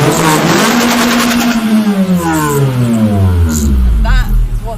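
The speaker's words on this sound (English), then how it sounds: "That is what this beauty sounds like bouncing off the limiter." A Toyota Celica GT's exhaust, recorded up close, revs hard and bounces off the rev limiter, rising and falling in loud repeated sweeps, with a voice talking over the engine.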